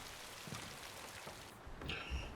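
Rain falling in a scene from The Last of Us, a faint, soft patter of drops heard at a distance with a few small shifts in intensity.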